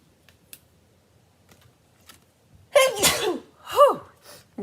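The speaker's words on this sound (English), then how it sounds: "I was building up a sneeze" A sudden close sneeze bursts out after a stretch of quiet broken only by faint small clicks, followed by a second, smaller sneeze-like exhalation.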